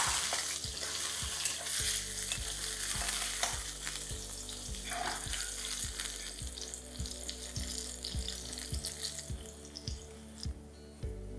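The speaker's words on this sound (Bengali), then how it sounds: "এবার আমি বাকি বেগুনগুলো ভেজে নিচ্ছি।" Eggplant pieces frying in hot oil sizzle and crackle steadily, with a close, continuous spatter and repeated low thuds from a utensil moving them in the pan.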